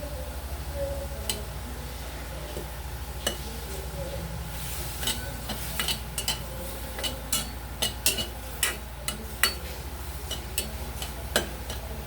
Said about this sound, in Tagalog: ginigisa na yan walang mantika